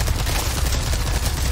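Dense, continuous gunfire from a weapon in the video game Resident Evil 4 Remake, a rapid rattling barrage that fills the clip at close, loud range with no speech.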